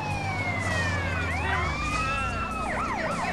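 An ambulance siren in Grand Theft Auto: San Andreas wails loudly, sweeping up and down continuously, switching to a faster yelping pattern near the end, with no talking.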